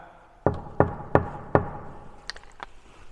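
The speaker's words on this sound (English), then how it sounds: "if I knock on this door, can you knock back?" Four firm, evenly spaced knocks on a door in a church, close and resonant in a quiet room, followed by a few fainter, quicker taps.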